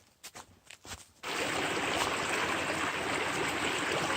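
Purlear Creek in a North Carolina state forest flows as a loud, steady broadband rush that begins abruptly after a second of brief footstep-like thumps, then continues close and unbroken.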